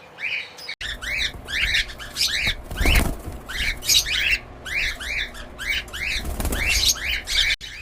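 Young cockatiels in a breeding facility beat their wings in repeated bursts of fluttering, close by. Bright, rising chirps come again and again throughout.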